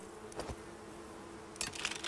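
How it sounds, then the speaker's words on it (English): Bees buzz in the survival video game Icarus, a quiet insect drone with a couple of brief louder rustling bursts, heard alone without talk. "Go away, bees."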